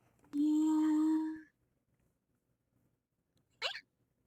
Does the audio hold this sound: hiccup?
yes